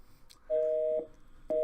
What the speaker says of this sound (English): Oh, and he's trying to ring Maddie again